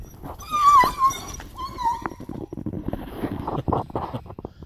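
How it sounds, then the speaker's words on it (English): Bloodhounds bark and whimper up close during a rainy, flood-hit outing, with sharp howling yelps at the start, then scattered rustling and clattering noise behind. "Horrible sounding bloodhounds."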